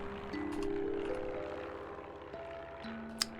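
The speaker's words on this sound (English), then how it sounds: "Airplane." A propeller airplane drones overhead with a steady, fairly loud hum that holds for the whole stretch, with no voices over it.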